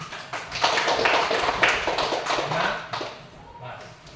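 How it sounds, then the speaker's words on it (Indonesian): Classroom of students clapping their hands together, a short burst of close taps and claps over a few seconds with voices mixed in, fading near the end. "Tepuk tangan."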